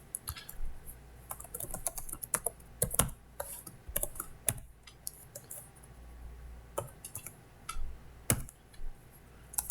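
Keys clatter on a computer keyboard in quick irregular bursts, close and fairly quiet, with short pauses between runs of clicks and no talking.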